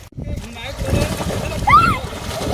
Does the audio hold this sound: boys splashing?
yes